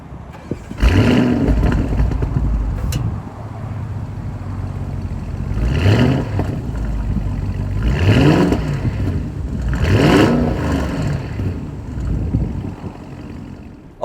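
A stationary 2025 Audi SQ7 engine revs hard three times, each rise and fall sweeping up and back down over a steady idle rumble, loud and close with no voices.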